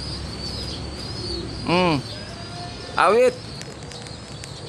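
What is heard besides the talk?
pigeons cooing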